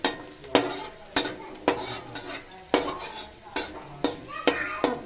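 Garlic fries in hot oil with cumin seeds and asafoetida while a spoon stirs the pan. Rhythmic scraping strokes land about once every half second over a continuous close-up sizzle.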